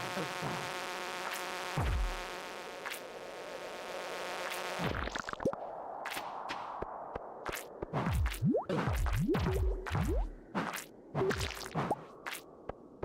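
A bee in the video game Stardew Valley makes quick buzzing, swooping sweeps that rise and fall rapidly, mixed with sharp whooshes and clicks from gameplay, following a steady tonal music bed that cuts off early.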